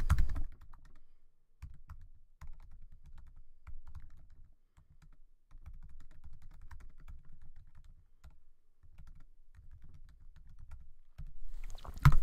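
Soft clicking of a computer keyboard as text is typed, with steady short runs of keystrokes broken by brief pauses, close and fairly quiet.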